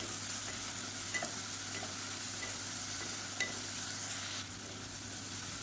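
Onion and tomato sautéing in a pan with salt for a side dish, a continuous close sizzle with a few light stirring clicks, easing slightly near the end, no talking.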